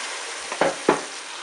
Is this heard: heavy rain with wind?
no